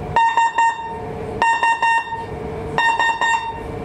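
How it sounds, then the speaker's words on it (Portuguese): A ship's whistle aboard the sail training ship Creoula sounds a muster signal in three repeated groups of short, loud tonal blasts with pauses between, close and clear. "Foi o terceiro apito que ouvimos e é naquela situação de que alguém está desaparecido."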